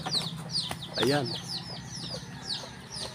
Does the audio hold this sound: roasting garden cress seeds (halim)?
no